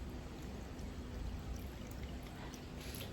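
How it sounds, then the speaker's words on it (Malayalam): Half a cup of lukewarm water pours into a bowl for pizza dough as a faint, steady, gentle stream lasting a few seconds, with no talking. "സോ ഞാൻ 1/2 കപ്പ് ഇളം ചൂടുവെള്ളമാണ് ഒഴിക്കുന്നത്."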